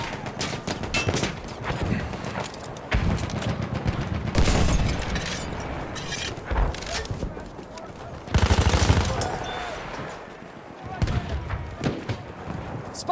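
Machine gun fire in the World War I shooter Battlefield 1 crackles in repeated bursts amid a dense battlefield din of other gunfire and explosions, with in-game voice callouts heard over the action.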